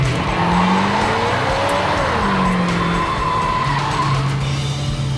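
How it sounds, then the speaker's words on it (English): A 1969 Dodge Charger Daytona does a burnout, with a loud, continuous tire squeal and skid over a heavy engine roar that holds steady throughout, no talking. "Good, solid burnout."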